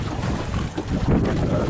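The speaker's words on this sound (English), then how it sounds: "pushing through the water even against quite a swell" SolarSailor boat slams through open water against a swell, with rough washing and thudding of hull on waves mixed with heavy wind buffeting on the microphone, steady and close.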